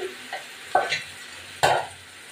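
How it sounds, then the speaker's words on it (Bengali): Chicken coated in ginger, garlic, chilli powder and a yogurt marinade is added to a hot pan for chicken chaap. A low sizzle sits under two sharp scraping stirs, with no talking. "এবার আমি চিকেনটা দিয়ে দিলাম।"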